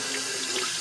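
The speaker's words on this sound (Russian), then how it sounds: "Здесь идет холодная вода." Cold water runs from a hotel tap in Lisbon, Portugal, a steady close hiss of flow filling a sink, heard alone for under a second.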